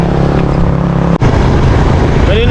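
A motorcycle engine runs close by, idling steadily with a rough low rumble before a brief cutout, then picks up again with a rising rev toward the end, on a wet road after rain, no talking.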